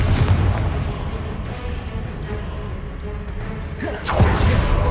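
A Confringo explosive spell cast in the game Hogwarts Legacy, heard as a dense rumbling blast throughout with a sharp burst and crackle near the end, amid ongoing game noise.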